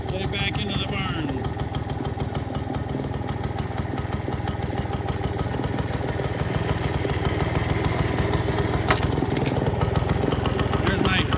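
A 1947 Frazer farm equipment rototiller engine runs close by with a steady, rapid putter. The small-engine chug holds an even pace throughout at a fairly loud level.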